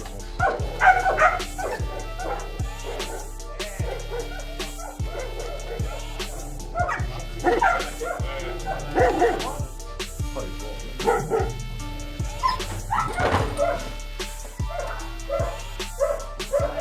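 Several Belgian Malinois dogs shut in small cages in a cellar bark repeatedly and whimper, with loud close barks in an irregular rhythm and continuous whining between them.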